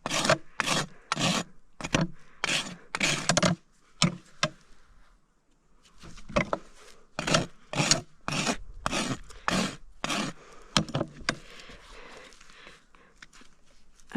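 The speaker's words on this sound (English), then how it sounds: "The blade of the rasp just doesn't work well." A rasp files a horse's hoof in a rhythmic series of harsh scraping strokes, fast back-and-forth passes that pause briefly and then resume, close and fairly loud.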